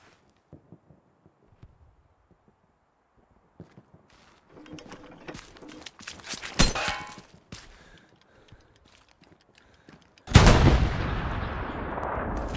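Gunfire in the Hell Let Loose video game arrives as a few sharp distant reports and mechanical rattles, then a loud close blast with a long rumbling tail near the end, preceded by near silence.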